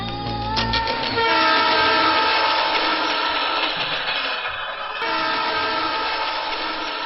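A train rolls through a railway station with a loud, sustained multi-tone horn blaring over the rumble of the railcars, the horn dropping briefly near the end before resuming, with no talking.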